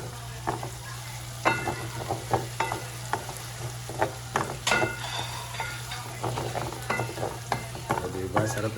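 Snack ingredients being mixed by hand, giving an irregular run of close scrapes, clicks and soft knocks over a steady low hum, with no talking.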